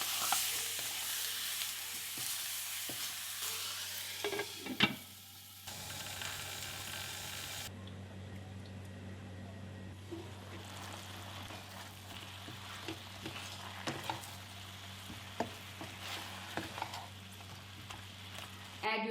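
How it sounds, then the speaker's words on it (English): Chicken pieces sizzle and fry in a pot for a Karbi-style chicken dish with rice flour, with scraping stirs and sharp clinks of a utensil against the pot throughout, at close range and fairly quiet. "Now add your chicken pieces, stir, cover and cook it for 10 minutes."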